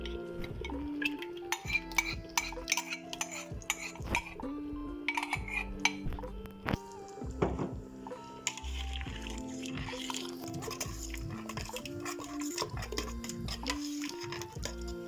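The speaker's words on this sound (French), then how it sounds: "Je mélange." A mixture stirred in a cooking pot with a utensil, giving repeated light clinks and scrapes against the metal, close by, with faint voices or background sound underneath.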